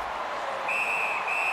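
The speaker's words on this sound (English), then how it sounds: "Puck covered, whistle blown." In the NHL 18 hockey video game, during a Detroit Red Wings versus Minnesota Wild match, a referee's whistle blows a steady shrill tone for about a second over a constant roar of arena crowd noise.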